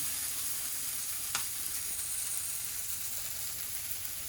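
A smash burger patty sizzles steadily on a hot home grill, a constant close crackling hiss broken by one brief sharp tick early on.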